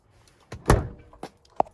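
The refrigerator door on a GeoPro 14FK camper trailer closes with a soft thump, followed by a couple of faint clicks as it latches, close and quiet.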